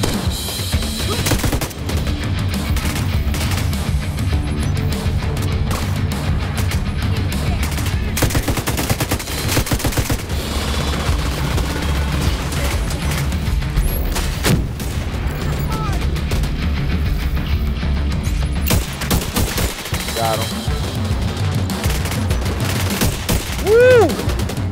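Gunfire in the online shooter The Division 2, dense and continuous under game music and effects, with repeated loud bursts and booms throughout.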